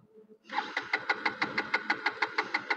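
A new KTM Duke 250 Gen3 motorcycle engine is started: after a quiet moment, a close, rapid and even train of mechanical pulses from the starter churns on for over two seconds.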